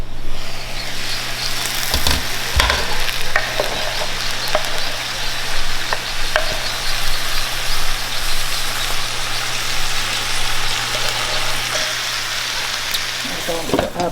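Chopped tomatoes added to green beans in a hot pot, producing a loud, steady sizzle and hiss throughout, with a few sharp clinks of a utensil against the pot early on.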